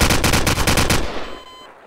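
Rapid automatic gunfire in Garry's Mod DarkRP, a loud close burst of about eight shots in quick succession that stops abruptly and rings out into a fading tail.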